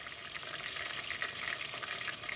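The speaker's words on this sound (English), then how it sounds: "Our grease is very hot. So I'm gonna pan fry this for you." Cod fish pan frying in very hot grease gives a steady, dense sizzle and crackle close by, continuous throughout with no talking.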